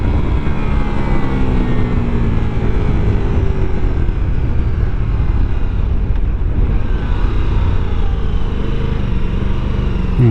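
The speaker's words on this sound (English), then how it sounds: "Let's rev this up." A Ducati Multistrada V4 Rally motorcycle runs loud and close, its engine a constant droning roar with shifting pitch under steady wind rush, with no clear separate rev peaks.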